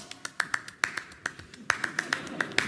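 Theatrical claque clapping from the stage show La Claque: a small number of sharp, separate hand claps in an uneven, stuttering rhythm, close and crisp, with quieter textured sound between them.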